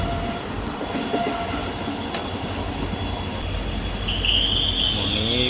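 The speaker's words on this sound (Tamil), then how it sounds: "மாங்குடி ரோட்லேருந்து கிளம்பியாச்சு." Karaikudi–Mayiladuthurai passenger train pulling out of Mangudi Road station: a loud, steady rumble of the rolling carriages heard from on board, with a thin wheel squeal rising near the end.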